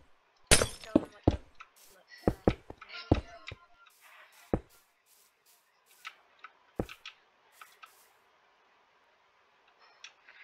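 Glass blocks break in Minecraft, a rapid cluster of sharp shattering crashes followed by scattered lighter clinks and ticks that thin out into near silence.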